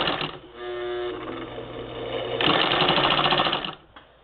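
A 1947 Singer Model 66-16 sewing machine ruffles muslin with a close, loud mechanical whir. It runs at a slower pace first, then speeds into a faster rattling burst before stopping.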